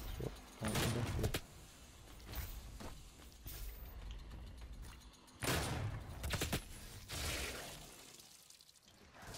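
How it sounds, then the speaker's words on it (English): Rapid machine gun bursts in the shooter Doom 2016 during a PvP match, loud and dense, with repeated sustained volleys, impacts and mechanical clatter in between, and no talking. "this machine gun's actually really good in PvP"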